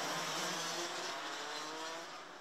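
DD2 racing karts at full racing speed in a race final: a steady, faint, high-pitched engine drone that fades slightly at the end, with no talk.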